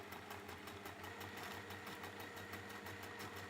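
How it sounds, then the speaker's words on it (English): A sewing machine runs steadily, stitching layered fabric for a quilt with a fast, even mechanical rhythm that carries close and continuous throughout, with no talking. "So I've just carried on sewing that."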